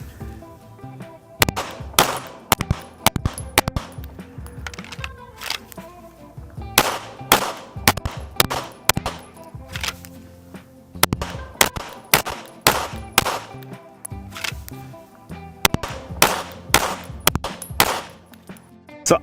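Handgun shots from a shooting drill, loud sharp reports fired in quick clusters of several rounds with brief pauses between strings, close and repeated throughout, with no talk.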